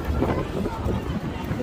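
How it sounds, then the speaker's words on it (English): Gusty wind buffeting the microphone on the Linq Promenade in Las Vegas, a steady low rumbling roar that fills the whole moment with no break. "It's very windy."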